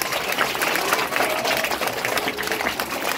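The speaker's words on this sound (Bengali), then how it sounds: "ঠিক আছে, জোরে হাততালি একবার।" A classroom crowd claps loudly and continuously for a student's birthday celebration, a dense steady patter of many hands with no gaps throughout.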